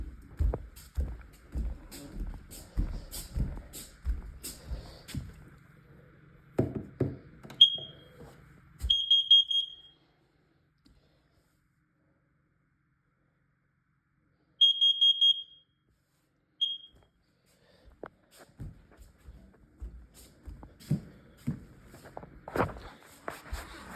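Smoke alarm being tested, giving short high-pitched chirps in two clusters around brief pauses, mixed with handling noises and footsteps nearby.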